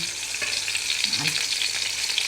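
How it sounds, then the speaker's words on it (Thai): Steady, loud sizzling of a flattened beef patty frying in a hot pan, a continuous crackling hiss with no voices. "ให้เราปั้นเนื้อให้แบนๆ นะคะ อย่าหนามาก แล้วก็ทอดลงกระทะเลยค่ะ"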